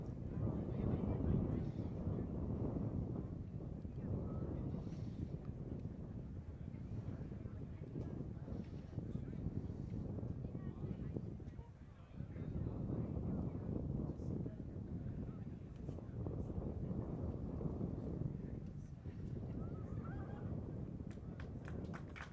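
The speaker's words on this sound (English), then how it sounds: "You can hear just how windy it is here." Strong wind buffets the microphone at an outdoor high school boys' soccer field during a regional final, a constant low rumbling roar with gusty surges, with a commentator's voice talking underneath.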